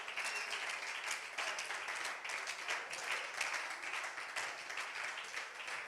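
A church congregation applauds the Lord after a prayer: steady, dense clapping from a crowd that keeps on evenly for several seconds, moderately loud and with no voices standing out above it.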